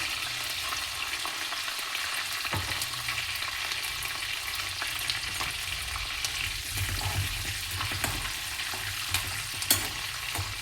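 Poppy seeds (khaskhas) sizzling in hot oil for a vegetable dish, a steady close crackle and hiss lasting throughout with occasional sharper pops and light stirring scrapes.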